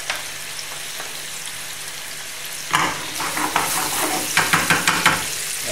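Glazed vegetables simmer in a little broth in a pan with a soft continuous sizzle, then a spoon repeatedly ladles liquid over them in a run of short, close wet splashes and taps.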